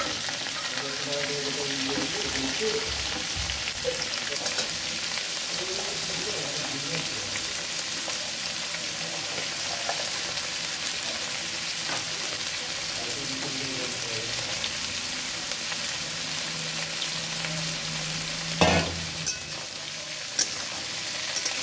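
Onions and spices frying in a pan for khichuri, a steady close sizzle running throughout with an occasional utensil knock, faint voices in the background.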